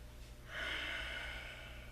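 One deep, audible breath swells in and is held as a long, airy exhale during a yoga flow pose. It is close and fairly soft, with no talk.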